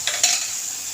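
Spice paste with turmeric and cumin is sautéed for a hilsa fish curry, with a close, loud sizzle and two quick scrapes of stirring at the start, then an even hiss.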